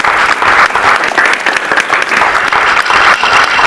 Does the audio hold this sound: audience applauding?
yes